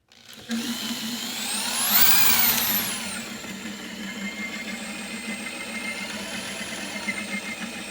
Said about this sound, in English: So on it, I've got my drill attached. So what I'm gonna do is let these brooders down.